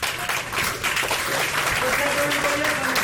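A round of applause at a martial arts seminar: group clapping rings out steadily for a few seconds, with voices mixed in over the claps.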